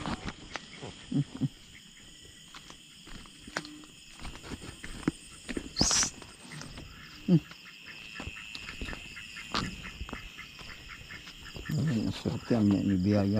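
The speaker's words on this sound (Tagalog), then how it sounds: "Yan po mga itik." Ducks on a rice-field farm before dawn, a few scattered quacks and rustling steps amid background hum, with brief bursts of louder noise near the end.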